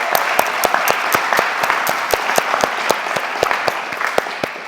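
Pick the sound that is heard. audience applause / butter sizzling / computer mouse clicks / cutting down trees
audience applause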